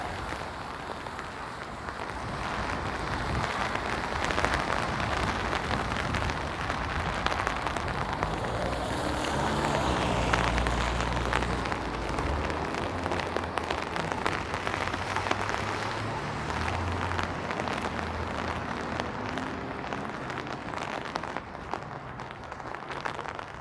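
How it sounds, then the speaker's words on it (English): Heavy rain pouring onto a Toronto street at night in late November, a dense continuous hiss and patter close around, with a low rumble of passing traffic swelling midway and no talking. "The rain seems to have picked up quite a bit."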